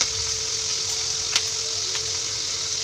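A ground paste of onion, tomato, ginger and garlic fries in hot oil for a chicken dish, giving a steady, moderate sizzle with a couple of faint clicks.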